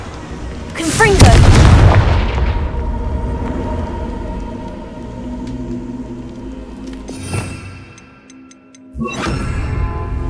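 A Confringo fire-blast spell from Hogwarts Legacy bursts loudly into a booming explosion with a long rumbling tail, followed by a few sharper magical impacts and crackles a few seconds later.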